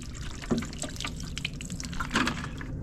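Water splashes and trickles while a DJI Action 3 camera is rinsed under running water, with irregular drips and pouring sounds close by and no talking.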